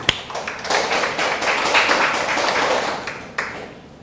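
A church congregation applauds during a Sunday worship service, a dense wash of many hands clapping together that swells and then gradually thins out, with no talk over it.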